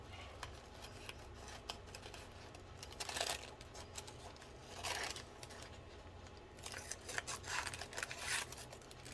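Scissors cutting paper for a collage envelope pocket craft, with a few distinct crisp snips and rustling between them, close-up and moderately quiet.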